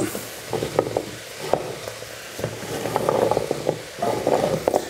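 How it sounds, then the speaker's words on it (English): Chopped root vegetables and garlic go into a hot pot for a venison stew, sizzling and frying with scattered scrapes and clatters of a utensil against the pot, close and moderately loud. "I'm just going to put all those sort of root vegetables and that"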